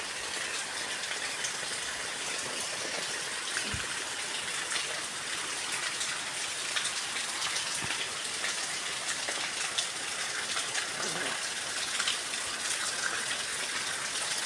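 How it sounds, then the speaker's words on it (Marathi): Steady rain falls continuously as an even, close hiss with occasional louder splashes of water, and no voices are heard. "वाव, पाऊस."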